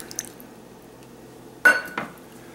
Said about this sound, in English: I'm going to put in a 1/2 cup of salsa. Salsa verde.